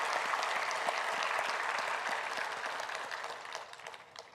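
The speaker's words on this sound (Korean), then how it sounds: "우리 박수로 한번 격려하고 축복하겠습니다" A church congregation claps together in steady applause at a Thanksgiving Sunday service, a dense, even clatter that gradually thins out.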